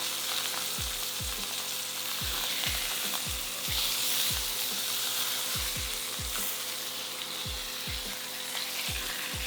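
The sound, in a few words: sirloin steak searing in a pan with garlic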